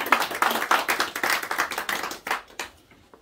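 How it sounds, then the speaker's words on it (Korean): A church congregation claps together in a steady burst for about two seconds during a Sunday morning service, then the applause thins out and fades. "하나님께 영광의 박수를 드리겠습니다."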